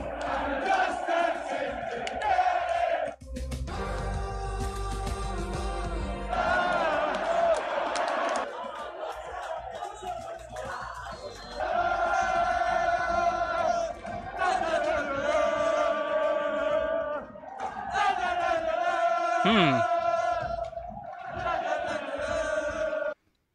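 Passionate football supporters at an Old Firm Celtic vs Rangers match chant and sing in unison, a dense, loud crowd roar with rising and falling sung phrases and bursts of cheering throughout, the stadium packed and sold out.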